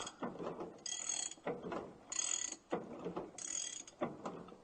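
A crane's mechanical ratchet clicks in repeated bursts, alternating with lower grinding pulls, steady and moderately distant, as it hoists the wing of a Beech 18 plane.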